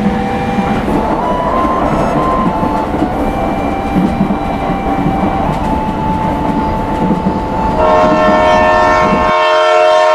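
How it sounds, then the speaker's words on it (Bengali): A train rolls into Begunkodar station with a loud, continuous rumble and squealing of wheels on rail as it slows. Near the end a sustained horn-like tone rises and the rumble cuts off as it stops. "দুপুর 2:20 ট্রেন এসে থামে বেগুনকদর স্টেশনে।"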